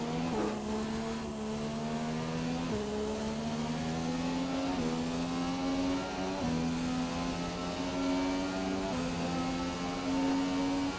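F1 car engines in the F1 2017 video game during a race at the China Grand Prix, a steady high whine rising through the gears with repeated shifts, loud and continuous.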